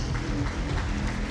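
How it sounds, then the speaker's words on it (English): An audience claps steadily at a South-South national dialogue and awards event, a dense, loud wash of applause filling the whole short stretch without a break. "Let's give her a round of applause."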